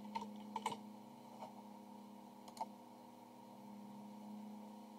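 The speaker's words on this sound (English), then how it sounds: "Just make sure I don't make any typos typing with one hand." Someone types one-handed on a keyboard. A few faint, scattered clicks sit over a steady low electrical hum.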